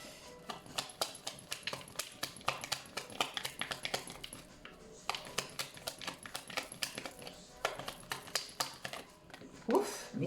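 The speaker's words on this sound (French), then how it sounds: "Ouf, mes cartes sautent." Petit Lenormand tarot cards are shuffled by hand, giving a rapid run of crisp flicks and taps, with a short pause midway, soft and close.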